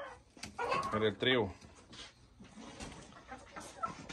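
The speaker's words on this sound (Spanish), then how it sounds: "aquí está la gallina McRae, primera que te voy a mandar" A McRae hen on a California farm gives a few close, short clucks at the start, followed by quieter scattered clucking from other birds, while someone talks over the hens.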